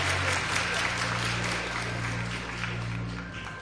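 Festival audience at a cosplay event applauding steadily, a dense wash of clapping that holds loud throughout and tapers slightly at the end, with a low musical hum beneath.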